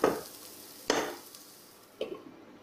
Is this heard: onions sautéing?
yes